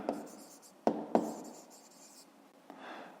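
A pen scratches quick strokes on paper during a fifth-grade maths exercise, with a few sharp taps and soft rubbing strokes, close and fairly quiet, alone without talk.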